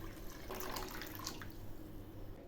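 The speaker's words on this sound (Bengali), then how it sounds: "এখন এর মধ্যে আমি জল দিয়ে বসিয়ে দিলাম গ্যাসে" Water trickles and splashes into a pan of soaked rice for biryani, a soft, steady pouring with faint dripping, fairly quiet and close, with no talk.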